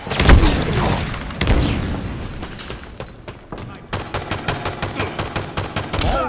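Gunfire in Halo Infinite multiplayer opens with a couple of heavy booming shots, then settles into a rapid, rhythmic automatic burst of sharp cracks, loud and close, with voices briefly heard.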